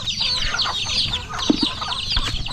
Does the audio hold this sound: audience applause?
no